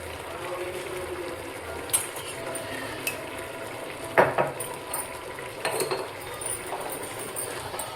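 Biryani ingredients frying and being stirred in a pan, with steady low sizzle and scattered clinks and scrapes of a utensil against the metal, a few sharper knocks near the middle, close by, with no talk.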